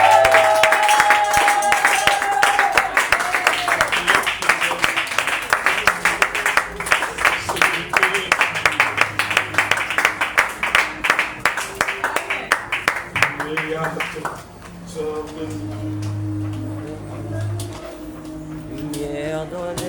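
A church congregation claps in a fast, steady, rhythmic beat with loud applause for about fourteen seconds, then gives way to music and singing.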